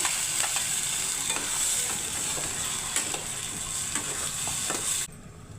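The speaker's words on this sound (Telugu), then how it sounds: "అల్లం వెల్లుల్లి పేస్ట్ అండి, ఒక స్పూన్ వేస్తున్నాను. ప్యూరీ వేస్తున్నాను." Tomato puree and ginger garlic paste fry in a pan with onions for a paneer tomato curry, a bright continuous sizzle broken by rhythmic scraping strokes of a spoon stirring, close up, cutting off abruptly near the end.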